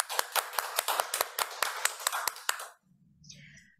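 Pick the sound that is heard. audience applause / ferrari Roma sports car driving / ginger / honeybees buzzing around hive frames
audience applause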